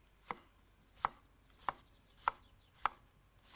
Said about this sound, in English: spring onions, just cut them on the bias